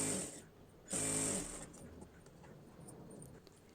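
A sewing machine stitches a blouse in short bursts, a quiet motor whir starting and stopping with a louder half-second run, then fading into faint mechanical clicks.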